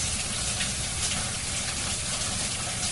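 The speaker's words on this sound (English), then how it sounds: "You got to be safe in the kitchen, so you got to wash your hands" A kitchen sink tap runs in a steady, full gush while hands are washed under it, loud and continuous with no pauses.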